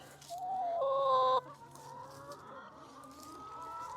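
Backyard chickens kept for eggs cluck loudly and nearby in a burst of sharp, tonal calls during the first second and a half, then settle into softer, continuous clucking and murmuring.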